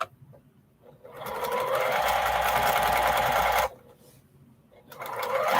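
A sewing machine runs a quarter-inch seam joining 2.5-inch fabric strips, one fast, steady burst of stitching lasting about two and a half seconds between quiet pauses, then starting again at the end.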